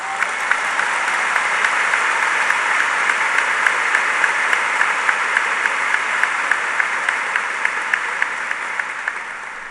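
Steady, full congregation applause during a Catholic charismatic renewal gathering, a dense, continuous roar of clapping hands that holds an even loudness throughout with a faint rhythmic pulse.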